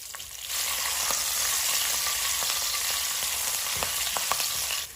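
Mustard seeds, cumin, green and dried red chillies, curry leaves and a pinch of turmeric fry in hot oil for a stuffed brinjal curry, a loud continuous close sizzle dotted with small popping crackles, no speech.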